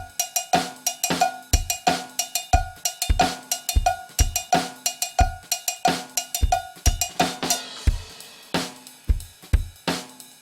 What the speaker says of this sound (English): As you can hear, it's got its own groove going on. It's a cowbell groove.